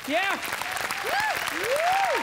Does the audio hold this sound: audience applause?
yes